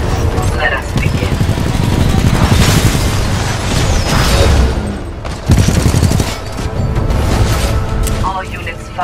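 Gunfire in the shooter Titanfall 2: sustained loud bursts of automatic fire with heavy booms and impacts, dense and continuous, one especially hard blast midway, with combat chatter mixed underneath.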